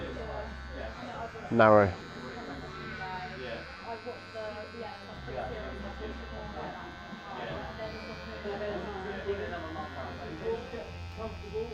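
Electric clippers buzz close by as the blade is lowered onto hair to trim a barbershop hairline, a steady low hum with a brief louder burst near the start, heard under ongoing talk.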